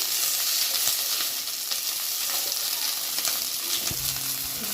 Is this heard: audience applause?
no